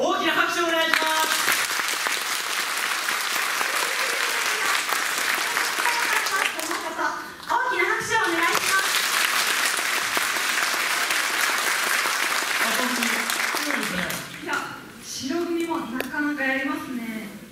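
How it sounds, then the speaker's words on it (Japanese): A concert-hall audience at a high school choir's Red and White song contest gives long, loud applause for the white team, steady clapping lasting many seconds with a few voices and cheers rising through it. "白組が良かったと思う方は大きな拍手をお願いします。"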